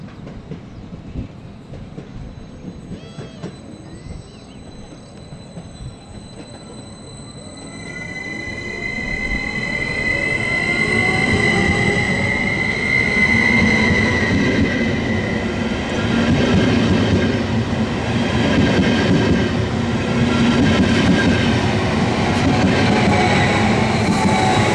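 A FLIRT electric multiple unit train rolls in at Soroksár, Hungary, growing louder with squealing wheels and rising electric whine, then a sustained rumble and clatter as it passes close by.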